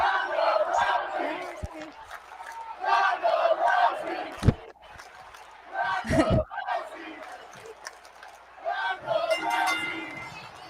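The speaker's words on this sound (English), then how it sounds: "You hear the crowd already." A wrestling event crowd roars and cheers in waves, loud and sustained with a few sharp shouts and thumps, while commentators talk over it.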